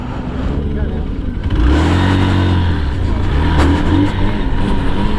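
An X-Pulse 200 motorcycle on an off-road track, its engine droning steadily and loudly close by, then revving up with rising pitch partway through and holding at a strong, even throttle.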